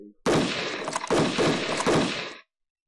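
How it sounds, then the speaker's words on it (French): Gunfire in the tactical strategy game Battle Academy 2: three loud, broadband bursts of shots in quick succession, each with a sharp attack and a short decaying tail, filling nearly the whole moment. "Je tire"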